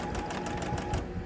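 Domestic sewing machine stitching fabric appliqué pieces of a dog and cat for a quilt, with tension set to 6.6; a steady, close mechanical whir runs throughout at an even level with no talk.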